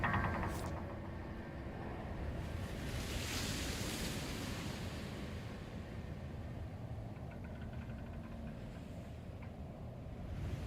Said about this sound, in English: Sure is loud by all this water.